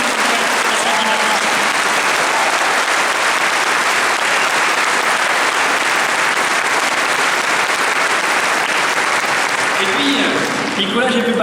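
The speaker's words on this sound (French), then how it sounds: "Je crois qu'on peut applaudir tous les militants" Loud, sustained applause from a large crowd at a political rally in Valence attended by François Fillon, a thick, continuous roar of clapping that fills the whole stretch.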